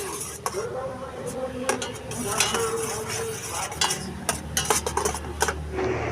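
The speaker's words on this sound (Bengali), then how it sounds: "হালকা হালকা করে নাড়াচাড়া করো" Food is stirred in a kadai with a metal utensil, repeated scraping and clinking strokes over a light sizzle, close and busy, with brief talk in the background.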